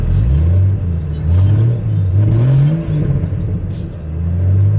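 A faltering Jeep engine being revved: a loud close rumble that rises and sags unevenly, surging and dropping as it sputters, with no talking.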